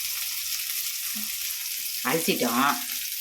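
Curry leaves crackle and sizzle in hot oil in a pan, a steady bright frying hiss close by, with a short voiced sound near the end.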